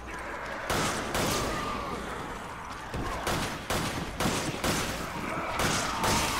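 Video game gunfire rattles off in bursts of rapid shots, loud and close, with short gaps between volleys.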